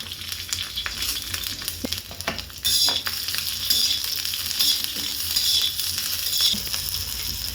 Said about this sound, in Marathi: आता आपल्या मिरच्या पण भाजून घ्यायच्या बघा आपल्याला.